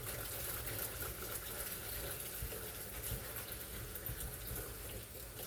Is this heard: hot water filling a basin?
yes